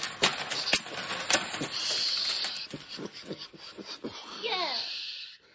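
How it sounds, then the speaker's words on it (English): Coins dropped onto a hard surface, a burst of bright metallic clinks and jingles near the start, then scattered lighter rattles and tinkles fading out, fairly close and moderately loud. "Cue coins."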